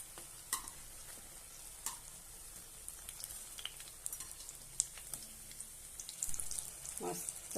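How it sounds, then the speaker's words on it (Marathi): Chilli bhaji (mirchi pakoda) fritters deep-frying in hot oil give off a steady, soft sizzling hiss, broken by occasional light clicks and pops, with a slightly louder bubbling stretch near the end. "छानपैकी आता आपण हे तळून घेऊया।"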